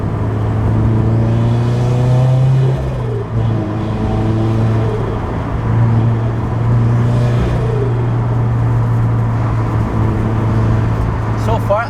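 A Toyota GT86 with an HKS exhaust drones steadily at close range with a low fluttering rumble and revving rises and falls, loud and continuous throughout.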